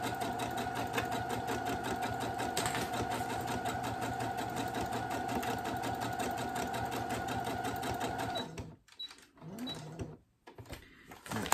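Steady, close whirring of a sewing machine running continuously as it stitches a fabric cake bag, then stopping and starting in short bursts near the end while the fabric is turned; no talking.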